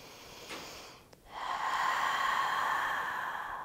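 Deep, steady breaths during an energy medicine yoga wake-up practice, a brief sharp intake followed by a long, loud, airy breath close to the microphone.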